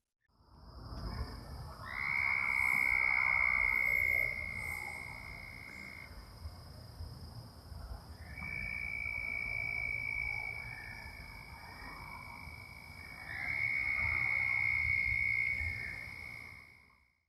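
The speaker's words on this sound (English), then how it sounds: "video highlighting the sounds of local frogs, toads, and birds" Local frogs and toads calling in a park or preserve, a dense chorus of croaks and long sustained trills that swell in three loud bursts over a steady insect-like hum, fairly close and continuous with no talking.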